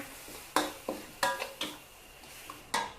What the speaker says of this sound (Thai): ใช้ไฟอ่อนๆ ค่ะค่อยๆ ผัดไป ผัดจนกว่าให้น้ำมันนะคะ น้ำมันพริกแกงนะคะลอยขึ้นมาเลยค่ะ